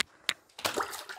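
Water splashes onto a floor in a couple of short bursts before a steadier pour, set up for a wet and dry vacuum cleaning test.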